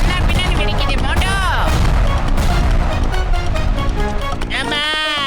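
Cartoon bomb blasts in a 3D animated kids' comedy, a dense run of booming bursts and crashes over a busy music bed, with sweeping whistle-like tones rising and falling near the start and end.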